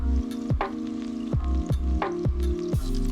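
Diced onion and garlic frying in oil in a skillet, a close, continuous sizzle with crackling and a few sharper bursts.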